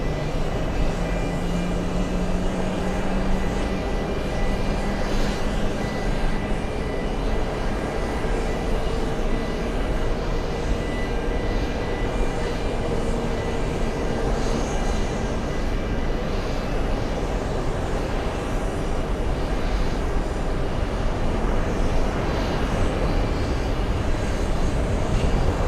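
Aircraft of the Russian Special Flight Squadron passing near an airport: a loud, steady jet engine roar that holds for a long stretch with a slowly shifting whine, no voices over it.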